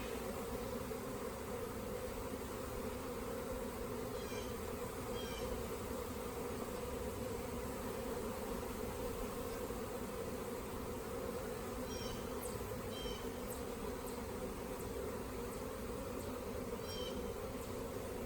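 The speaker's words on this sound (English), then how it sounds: "But there's so many bees there, we're gonna let that happen at another time." Honey bees hum densely around a 10-frame medium hive as a nuc is hived, a constant close swarm drone with occasional individual bees buzzing past; no talking.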